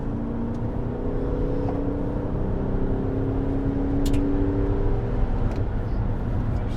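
A 2008 Chevrolet pickup truck's engine hums steadily while driving on a road at about 70 mph, with continuous low rumble and road noise throughout, fairly loud and close.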